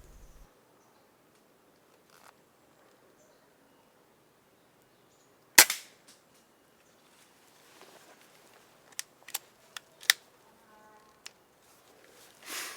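A Hammerli 850 air rifle fires at a grey squirrel on a garden feeding station, one sharp close crack standing out from a quiet outdoor background, followed by a scattering of light clicks and rustles.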